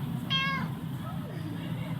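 A single short meow from a cat in the video game Under Maintenance, close and clear over a low background hum.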